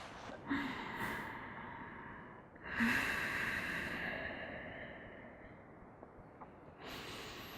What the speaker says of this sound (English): Nice, steady, deep inhales through the nose, slow, calming exhales out the nose.